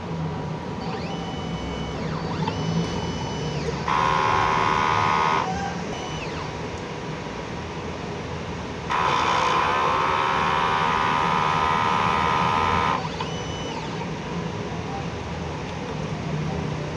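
A DTF printer runs a head cleaning cycle, with two bursts of steady mechanical whirring and pumping over a constant background hum, each lasting a few seconds.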